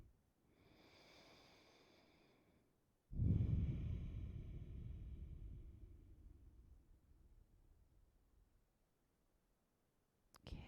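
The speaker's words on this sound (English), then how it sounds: "Coming back to that belly breathing." Slow, deep belly breaths during a seated yoga practice: a soft breathy inhale, then a louder, longer exhale that fades gradually, heard close and alone without talk.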